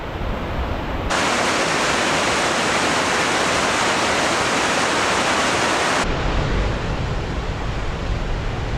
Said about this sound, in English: we have made it to the valley floor, the Yoho River.